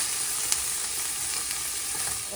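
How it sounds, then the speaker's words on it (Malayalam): Carrots and mixed vegetables stir-frying in ghee give off a steady, close, dense sizzle that runs unbroken throughout, with no voices. "ഞാൻ കുറച്ച് ക്യാരറ്റും വെജിറ്റബിൾസൊക്കെ ഇട്ട് സ്റ്റർ ഫ്രൈ ചെയ്യുക നെയ്യ് ഇട്ടാണ് സ്റ്റർ ഫ്രൈ ചെയ്യുന്നത്"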